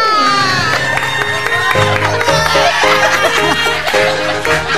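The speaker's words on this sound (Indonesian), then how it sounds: "Tepuk tangan untuk Ustadz Maulana." A television talk-show studio audience cheers and claps as a guest is welcomed, the crowd noise loud and mixed with bright music playing throughout.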